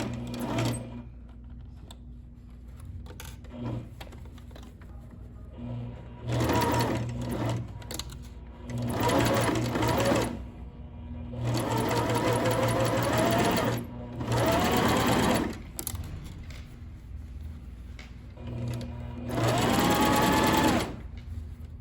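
Sewing machine stitching the zipper seam of a simple circular skirt, running in several bursts of a few seconds each with short pauses between, close and fairly loud, with no talking.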